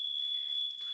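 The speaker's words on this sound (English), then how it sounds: "we just had a fire alarm" A smoke or fire alarm sounds a single steady, piercing high-pitched tone, continuous and moderately faint, with no voices.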